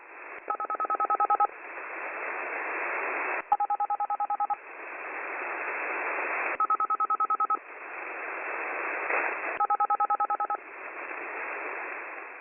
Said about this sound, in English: It sounds like some sort of phone-related sound.